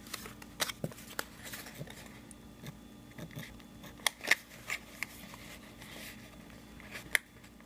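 Scissors snip a small piece off a paper box tab, producing a few faint, sharp clicks and crisp cuts spread over a quiet background.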